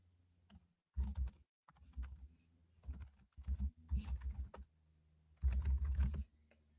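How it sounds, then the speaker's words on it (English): Close computer keyboard typing in several quick bursts separated by short silences, with clear, crisp key clicks and no talking. "I'm typing as I'm trying to speak"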